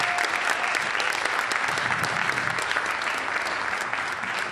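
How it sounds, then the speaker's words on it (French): Sustained applause from a church congregation fills the room, dense steady clapping from many hands with a faint murmur of the crowd underneath. "je crois vraiment que ça mérite une main d'applaudissement"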